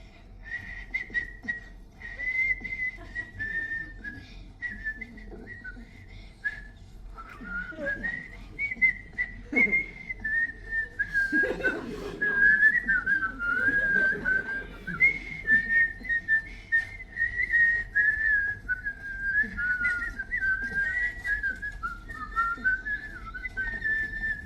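A person whistles a wavering melodic tune, fairly close and steady throughout, with some rustling and background noise underneath and no talking.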